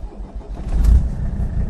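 A warm 1982 Mercedes 300TD straight-pipe diesel cranks and catches, a short low rumbling burst as the engine fires up, close and fairly loud.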